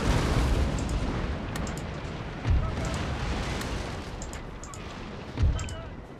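Cannon fire from warships in Napoleon Total War, heard as deep booming shots at a steady distance, with two clear heavy blasts rising above a constant rumbling battle roar.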